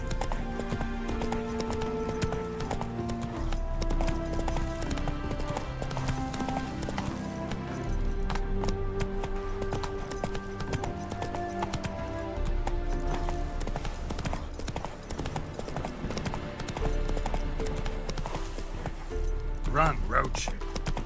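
Roach the horse gallops in The Witcher 3, with steady rhythmic hoofbeats and an occasional whinny heard under the game's music.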